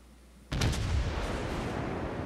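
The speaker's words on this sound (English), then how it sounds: "Just taking full salvos at him, trying my best." Heavy warship guns in a naval battle game fire a full salvo, a single sudden loud boom that rolls into a long, sustained rumble, with no talking.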